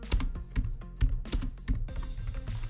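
Rapid keystrokes on a computer keyboard typing out a command-line entry, close and crisp, with irregular bursts of clicks and no voice.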